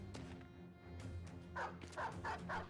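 Game dog in the Battle Brothers strategy game barks several times in quick succession near the end, loud and close over a low background game music bed, after an earlier softer yelp.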